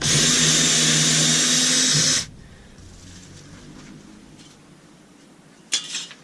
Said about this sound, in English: It's a little handier with the drill.